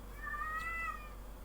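A single cat meow rises and falls over about a second, clear and fairly close against a low steady hum indoors, with no talking.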